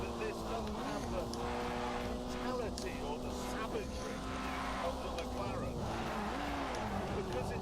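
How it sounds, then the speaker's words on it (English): A Porsche 918 drifts in The Grand Tour Game, its engine droning steadily with rising and falling revs and tire noise, close and continuous, while someone talks over it. "now the Porsche 918, I believe it's called. Oh god, we got drift."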